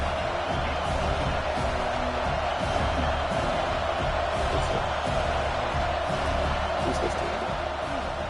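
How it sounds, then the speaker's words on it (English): A large stadium crowd in a college football video game, Louisiana at Notre Dame, roars continuously in a dense wash of cheering, a steady distant din with occasional louder swells. "Listen to the crowd energy here in the early going."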